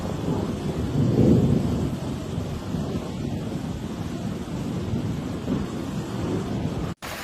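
During a hailstorm in Limena, Italy, thunder rumbles in a low, rolling swell peaking early. Steady wind and rain noise continue beneath it throughout.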